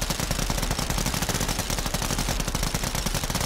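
Cor45 gun in the Warzone video game firing rapidly, a dense, continuous stream of loud, close shots with no pauses across the whole stretch.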